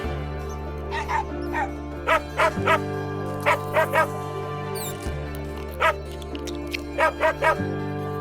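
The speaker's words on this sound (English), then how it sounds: "you are able to control the mother fox and have her bark some encouragement at the cub" A mother fox in the video game Endling gives repeated short yips and barks in quick bursts over a steady, low synth music bed.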